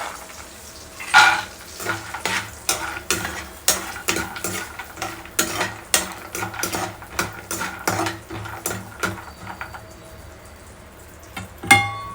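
Paneer butter masala being cooked at home, with cashews frying in a pan while a utensil stirs them. Repeated scraping and stirring strokes land in an irregular rhythm over a steady sizzle, close and fairly loud, with no talking.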